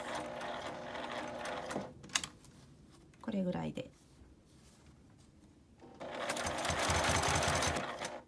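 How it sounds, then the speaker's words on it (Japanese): A sewing machine stitching felt for a coin purse, a close, steady mechanical whir running at the start and again more loudly at the end, with a brief pause between and a short spoken phrase. "この端はちょっと端ミシンなので5ミリぐらいの縫い代で縫います"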